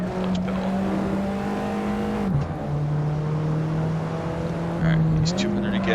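Alfa Romeo 4C engine in the Assetto Corsa racing game, a steady loud drone with pitch dropping at gear shifts and then climbing again, a constant in-car engine note with no talk over it.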